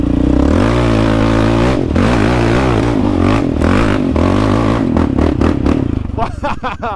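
Motorbike climbing a dirt trail held in second gear, its engine loud and close with a steady throb that swells and dips over bumps, with clattering off-road scrapes and a fading, uneven finish.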